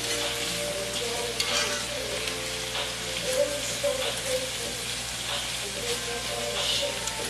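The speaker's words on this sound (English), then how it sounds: "So once we cook the sausage" Sausage frying in a pan, with steady close sizzling and hissing, occasional stirring scrapes, and faint background music underneath throughout.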